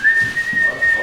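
A person whistles a tune, a clear sustained tone held close and loud, with slight pitch steps and little else around it.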